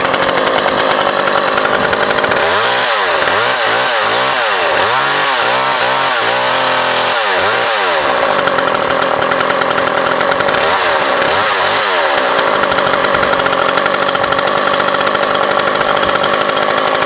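McCulloch PM 360 or 370 chainsaw engine running loud and close, a steady buzzing drone with a series of rapid revving surges in the middle before settling back to a constant high idle.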